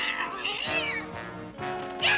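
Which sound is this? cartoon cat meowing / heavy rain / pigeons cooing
cartoon cat meowing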